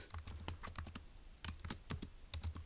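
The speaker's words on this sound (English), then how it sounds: "We're going to type up in E." Fingers typing on a computer keyboard in a quick, irregular patter of close, crisp key clicks in bursts, with no talking.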